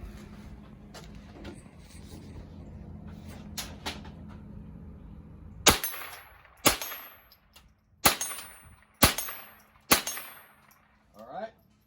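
Ruger rifle firing at an outdoor target range, five sharp loud shots spaced about a second apart after a quieter stretch of handling noise and faint background sounds.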